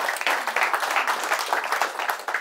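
An audience claps in applause during a talk on gamification and brain learning games, a brisk burst of many hands with a fast uneven patter, fairly loud and sustained throughout.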